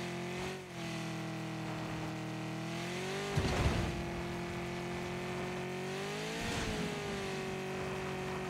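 A beat-up car's engine in the battle royale game PUBG on the Erangel map drones steadily with a constant pitch, shifting gear or rising in revs twice, alone without talk.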